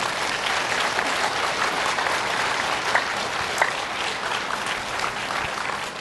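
Sustained, fairly loud applause from a women's church mission gathering for the preaching pastor, dense clapping running steadily for six seconds with a few sharper individual claps and no speech over it.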